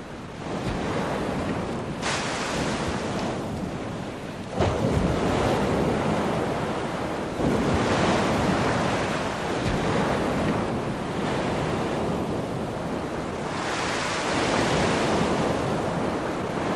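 Stormy seas before a typhoon break in heavy waves along a rocky Taiwanese coast, surging in repeated crashing swells every few seconds beneath constant wind buffeting the microphone, loud and close with no voices.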